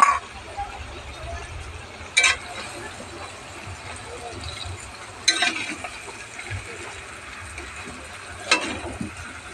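Mutton pieces and potatoes being sautéed in a pan for a mutton-potato curry, with a steady soft sizzle broken by three sharp scraping stirs at spaced intervals, heard up close.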